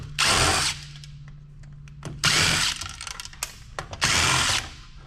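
A power screwdriver with a #1 Phillips bit backs black screws out of the underside of a heavy amplifier board in three short whirring bursts, with small clicks and rattles of loose parts between them.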